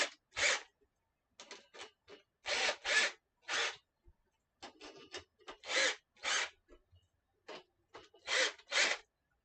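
Screws tightened on a PT-3 screen printing press frame give short rasping, ratchet-like bursts, often in pairs, separated by brief silences, close and clear with no talking.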